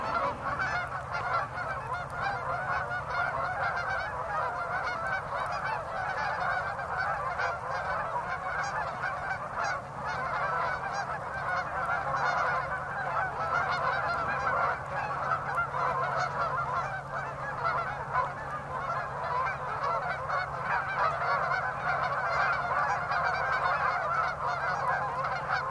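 Hundreds of waterfowl, including geese, honk continuously from a pond in an open field, a dense overlapping chorus heard from a moderate distance with a steady low background rumble.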